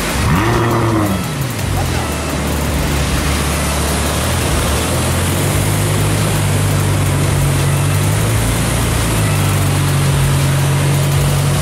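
A Ferrari F12 TDF sports car rolls past at the entrance to Monaco, its engine a loud, steady low drone with a rising sweep early on, continuing over constant street noise for the whole stretch.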